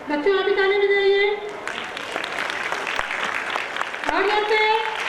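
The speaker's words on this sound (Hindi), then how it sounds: "बच्चों आप भी ताली बजाइए" Schoolchildren in an audience clap together at an annual school gathering, a brisk, dense burst of applause between stretches of a speaker's voice over the sound system.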